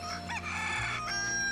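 Chickens in Final Fantasy VII Rebirth cluck and crow loudly and close, repeated calls layered over the game's background ambience.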